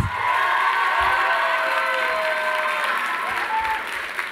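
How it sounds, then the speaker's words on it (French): Loud, dense applause from a large audience at a Model United Nations closing ceremony for the organizing team, steady clapping mixed with some cheering and scattered voices throughout. "je veux un tonnerre d'applaudissements pour toute mon équipe"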